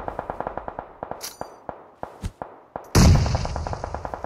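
Gunfire in BGMI/PUBG, a rapid series of sharp shots in uneven bursts with brief gaps, ending in a louder, heavier blast that rings out into a sustained roar.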